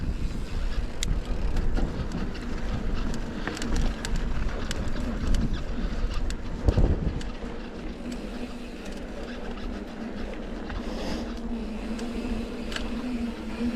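Wind at high elevation roars steadily and broadly across the whole stretch, a constant rushing noise with gusting surges and a brief thump in the middle, no voices heard.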